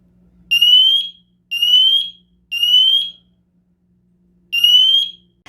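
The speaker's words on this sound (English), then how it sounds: "The smoke alarm will generate a beep to indicate that it's activated." A newly activated smoke alarm sounds a series of loud, shrill electronic beeps. Three evenly spaced pulses of about half a second come first, then a pause and a fourth beep, close by with no voices and only a faint low hum underneath.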